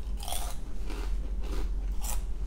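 Fritos corn chips crunched in the mouth close up, three or four loud separate bites and crunches spaced about half a second apart.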